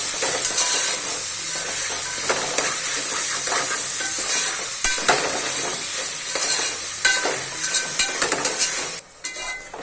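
Mushrooms sizzle and fry in a pan for mushroom biryani, a steady loud hiss broken by scraping stirs throughout, with no talk.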